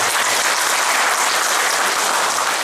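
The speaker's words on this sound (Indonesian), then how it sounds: "Tepuk tangan untuk Pak." An audience at an aid event at Kariadi hospital breaks into dense, even applause that stays loud throughout the short stretch, with no voices over it.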